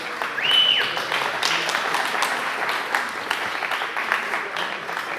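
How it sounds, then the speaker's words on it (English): Audience applause at a KDE Akademy 2024 conference talk, a steady wash of many hands clapping in a room that holds for several seconds at moderate level. "I see that is getting some applause, so you like this one."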